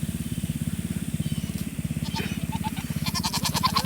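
A Nigerian Dwarf doe goat in heat bleats loudly in a fast, pulsing, rattling stream. Sharper higher calls join near the end, and the sound is close and persistent.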